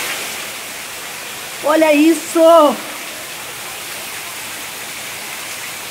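Torrential tropical downpour floods a house during a violent storm, a dense steady hiss of heavy rain and rushing water filling the scene while a person briefly speaks over it.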